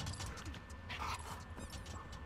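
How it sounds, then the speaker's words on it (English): Dog in the video game The Last of Us Part II, faint whimpers, yips and panting with light footfalls, mixed under quiet game ambience. "playing with dogs in this is quite satisfying"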